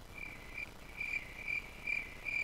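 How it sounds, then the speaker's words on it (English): Crickets chirp as a sound effect on a radio show, faint, evenly spaced trilling pulses repeating over a quiet background hiss. "Latchy, do the honors with the crickets again"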